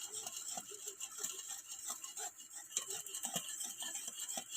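A sticky jaggery mixture for fish bait is stirred in a pan over gas. Soft, quiet scraping and ticking strokes repeat steadily under a faint bubbling hiss.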